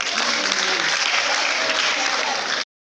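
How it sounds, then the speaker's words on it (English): A group at an Engineers Without Borders project meeting applauds itself, loud, continuous crowd clapping that fills the room and then cuts off abruptly. "So clap for yourself."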